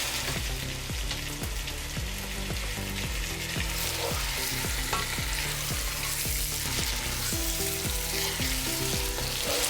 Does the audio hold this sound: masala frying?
yes